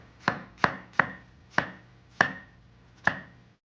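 A knife chops pizza toppings on a board in six crisp, evenly spaced strokes, each a sharp close knock with a short decay, with no talking.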